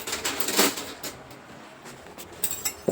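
A steel bowl and spoon are picked up in a home kitchen for kheer, giving a few light metallic clinks and knocks, sparse and close in a quiet room.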